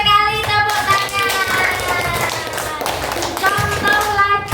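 A classroom of children applauds together, a dense, sustained burst of hand clapping with children's voices mixed in throughout.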